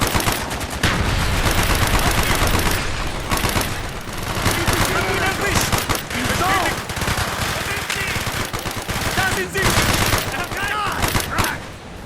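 Dense automatic and rapid gunfire from a Call of Duty: Black Ops campaign mission, loud and nearly continuous with bursts overlapping, mixed with battle effects and shouted soldier voices in German.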